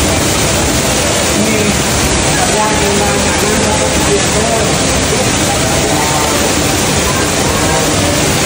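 Tanhane waterfall at Pura Taman Pecampuhan Sala pours in a loud, dense, unbroken roar of falling water, close and steady from start to finish with no pauses.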